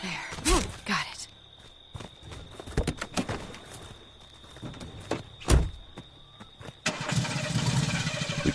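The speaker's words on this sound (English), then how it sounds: "We can't get in until he starts the car." A car engine cranks and turns over in the Friday the 13th video game, preceded by scattered door and footstep clatter, then settling into a steady idling rumble for the final seconds.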